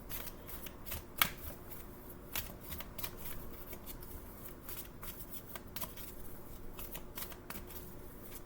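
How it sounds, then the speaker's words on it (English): A deck of oracle cards being shuffled by hand, quiet and close, with repeated crisp riffling bursts and soft slaps of the cards at an uneven rhythm, no talking over it. "I'm just going to shuffle and cut 2 cards."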